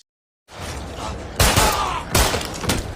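Gunfire erupts during a fight on a train in the film Extraction 2: after a moment of silence, a rumbling, busy action bed breaks into several loud, sharp shot bursts that crack out in quick succession.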